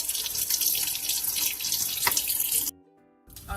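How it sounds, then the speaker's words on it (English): Horseradish roots are rinsed under a running tap, a close, steady rush of water splashing over them that cuts off abruptly, leaves a short quiet gap, then starts again. "I just keep rinsing these underneath the water too."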